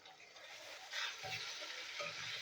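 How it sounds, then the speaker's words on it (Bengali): Garlic paste fries in a pan with already fried potato and onion, a steady soft hiss of sizzling with a few stirring scrapes, close and without talk. "রসুনটা একটু ভেজে নেবো।"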